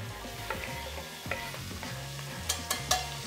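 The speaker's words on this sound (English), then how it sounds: "That's gonna help these guys fry" Peppers and onions fry in a pot over a cinnamon-stick base, a soft sizzle broken by the scrape and clatter of stirring, quiet and close with no talking.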